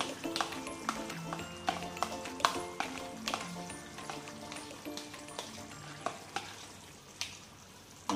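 Gongura (sorrel leaf) paste going into chicken frying in oil in a pan, a steady sizzle with scraping stir strokes and occasional clatters throughout.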